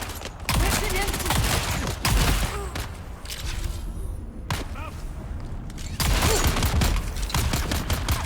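Rapid gunfire bursts from a video game set on Arrakis, loud close automatic volleys broken by short pauses between them, with a player's voice talking in between.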